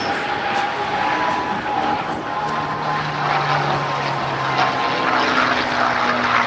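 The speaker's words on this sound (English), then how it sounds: "You gotta love the sound of that V12 engine." Continuous loud drone of a P-51 Mustang's 1,500-horsepower V12 piston engine during a 2008 airshow at NAS Oceana, a steady rumbling roar with propeller buzz that holds for several seconds without talk.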